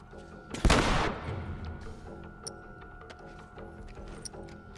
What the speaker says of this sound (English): Yep, that's it right there. Assault rifle.